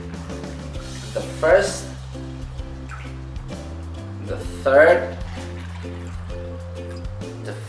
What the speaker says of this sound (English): Then you need to take some water and fill